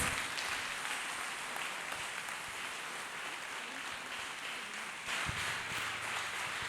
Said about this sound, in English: Let us clap hands for Jesus Christ